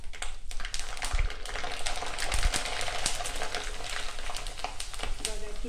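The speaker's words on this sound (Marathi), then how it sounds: "चला अशाच प्रकारे आपण आहे ना सगळ्या पापड्या तळून घेऊ।" Papad batter crisps frying in hot oil for homemade fasting-season papads, a steady loud bubbling sizzle that runs unbroken throughout with faint clinks of a utensil.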